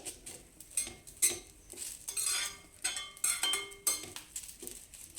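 Drumstick leaves being stirred as they dry-roast in a pan, with repeated scrapes and clinks of the spatula against the metal in an uneven rhythm, close and clear, with no voices.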